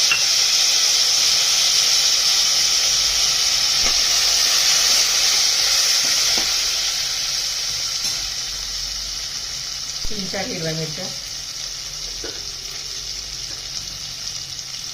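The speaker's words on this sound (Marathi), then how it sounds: "जिरे मोहरी तडतडली आता त्याला टॉमॅटो टाकून घ्यायचा" Steady hot-oil sizzling of cumin and mustard seeds crackling runs throughout, loud at first and easing slightly, with someone speaking briefly over it and occasional utensil clinks.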